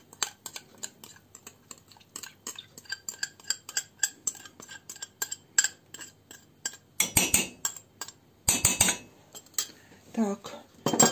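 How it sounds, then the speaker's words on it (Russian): A spoon stirs swollen gelatin into an eggless Easter glaze in a bowl, making quick, close metallic clinks and scrapes in a busy rhythm that grows louder in bursts near the end. "И ложечкой быстренько его размешаем."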